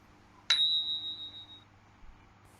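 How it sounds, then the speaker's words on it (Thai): A single bright open 'ching' strike of small Thai ching hand cymbals rings out clearly and decays slowly in an otherwise quiet space. "การตีฉิงให้เป็นเสียงฉิงจะเป็นเสียงแบบนี้ค่ะ"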